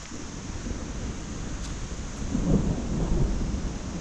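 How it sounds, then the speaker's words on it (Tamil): Thunder rumbles in the distance during a hike up a wild mountain trail in China, a low, rolling swell that builds in the second half of the clip over steady wind and rain noise, with no talking. "இடி இடிக்குது."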